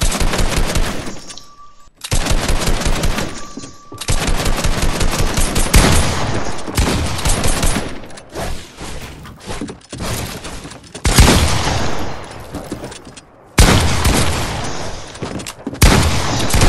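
Repeated bursts of rapid automatic gunshots in a video game fight, loud and close, broken by short silent gaps between volleys, with occasional heavier booms and no talking.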